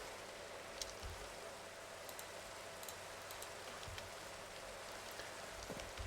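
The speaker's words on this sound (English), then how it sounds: "it's dark out and it's raining" Rain falls at night in the video game Enigmatica 9, a steady faint hiss of drops on surfaces with occasional small ticks and patters, continuous and even with no talk.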